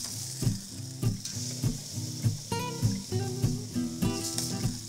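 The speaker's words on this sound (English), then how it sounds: "Okay, the apple is cooking." Apple slices on a grill crackle and sizzle softly while being moved and turned, with repeated scraping and tapping of a utensil in an uneven rhythm, close by and without speech.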